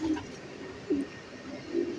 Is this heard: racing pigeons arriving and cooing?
yes